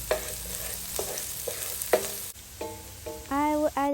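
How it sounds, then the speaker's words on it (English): Red chili paste is stirred into frying shallot and garlic, a continuous sizzle with spatula scrapes, and a few short tonal squeaks toward the end. "I will add in my red chili paste and mix that with the shallot and garlic"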